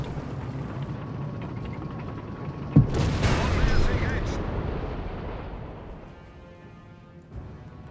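Machine gun and other battle fire in the strategy game Company of Heroes 3, a sudden burst of gunfire and explosive rumble that fades away, with background battle noise.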